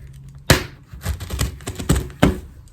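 A pen jabbing and dragging through packing tape on a parcel, giving close, irregular taps, thunks and tearing scrapes, with several sharper punctures standing out.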